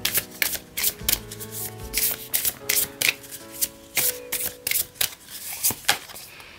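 Oracle cards being shuffled and drawn from a deck, a rapid run of crisp riffling and flicking bursts close by, repeating in uneven clusters with no voices.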